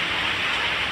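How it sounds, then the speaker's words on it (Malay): Heavy rain falls at a workplace in Kuching, a steady, close hiss of dense downpour with no other sounds. "ya di tempat kerja saya hujan."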